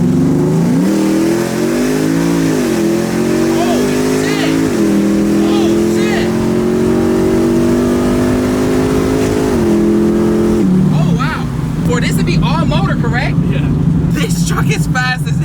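A lifted Chevrolet Tahoe on 26-inch Forgiato wheels, with no boost or nitrous, accelerates hard from a dig, heard from inside the cabin. The loud engine drone climbs in pitch through repeated surges, and voices talk over the later part.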